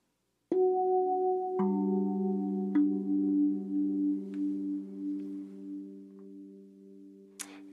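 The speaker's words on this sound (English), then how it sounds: "I'm going to add some chorus," A 15-inch Kosmosky Kosmodrum steel tongue drum plays a few mellow, ringing notes that sustain and shimmer with a wavering chorus effect, calm and close.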